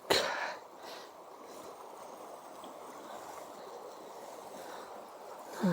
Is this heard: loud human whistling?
no